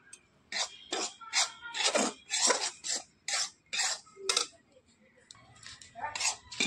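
Rice flour being stirred as it dry-roasts in a pan, a close series of about a dozen rough scraping strokes in an uneven back-and-forth rhythm, each a short rasp with brief pauses between.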